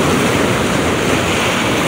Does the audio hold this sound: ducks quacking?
no